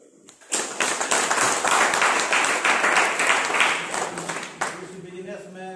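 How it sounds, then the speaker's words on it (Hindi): An audience breaks into loud, sustained applause at a wellness business gathering, dense clapping rising sharply after a short pause and holding steady for several seconds before tapering off. "सबसे पहले जोरदार तालियां"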